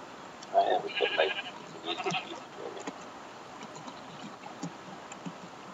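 Sheep bleating in a Minecraft-style survival game near a wheat farm, several quick bleats close together early on, then fading into a quiet background with light clicks.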